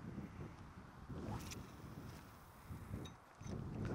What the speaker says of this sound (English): that wind's getting up a tiny bit